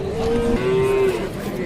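A cow lows once in a drawn-out moo at the Özgön livestock market in Kyrgyzstan, loud and close over a busy market background.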